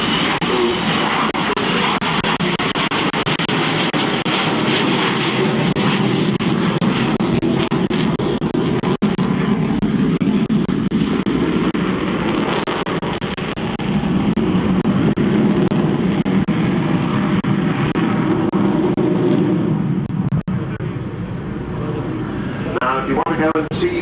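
The Avro Vulcan XH558 jet bomber roars continuously at an air show, a loud broad engine rumble that swells and fades as it passes, while an announcer's voice talks over it.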